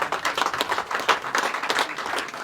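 Brisk audience clapping at a public gathering, dense and even claps at close range with no speech over it.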